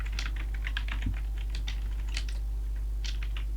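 Quick, uneven typing on a small computer keyboard, with bursts of key clicks close to the mic over a steady low electrical hum.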